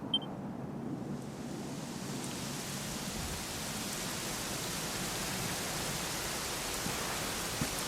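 Steady rain pours down in the Dragon Quest XI video game, a dense, continuous hiss of falling water that holds an even level throughout with no voices over it.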